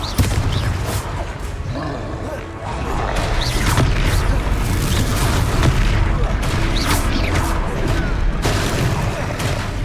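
Loud fiery blasts from the Confringo spell in Hogwarts Legacy boom through a chaotic fight, with repeated crashes and rumbling impacts over a constant roar of combat.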